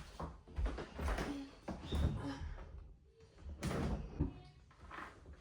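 A blanket chest lid in a child's bedroom opens and shuts with a few soft, muffled wooden thumps and handling noises, fairly quiet throughout.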